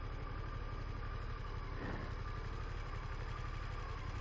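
Harley-Davidson Pan America motorcycle engine running in second gear while climbing a hill: a steady, loud, close engine drone with constant vibration and wind noise, without speech.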